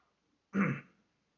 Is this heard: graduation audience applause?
no